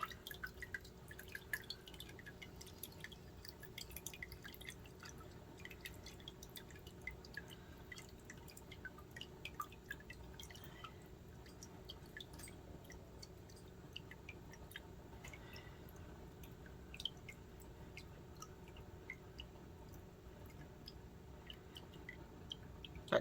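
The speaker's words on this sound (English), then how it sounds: "Pull it back up, let my water drain out." Water drains from a handmade paper mould lifted out of a vat after dipping a pillowcase scrap, falling in a steady stream of close, quiet drips and trickles that continue for the whole stretch with no talking.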